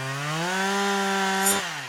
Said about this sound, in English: Oh, and my shiny new chainsaw.